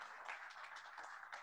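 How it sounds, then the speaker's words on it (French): Audience applause at a conference general assembly, faint continuous clapping from a hall heard at a low level throughout. "On peut les applaudir."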